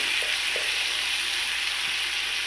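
Prawn masala sizzles steadily in a frying pan, a loud continuous hiss of frying with a few soft scrapes of stirring underneath.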